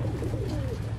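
Pigeons coo steadily and close by during racing-pigeon training, a low rhythmic warble repeating throughout with no voices.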